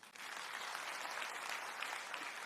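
Steady applause from an audience at a sermon, a dense wash of many hands clapping continuously with no talk over it.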